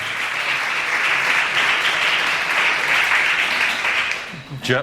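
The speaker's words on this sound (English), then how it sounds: "a round of applause for Joe." A meeting audience claps steadily in a dense, loud round of applause that holds for several seconds, then tapers off at the end.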